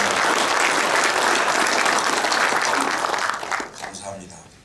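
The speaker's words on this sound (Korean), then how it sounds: "다 함께 축하의 박수를 쳐주시기를 바랍니다." An audience claps together in celebration at a Naju city mayor's policy briefing. The applause is loud and full, then dies away quickly near the end.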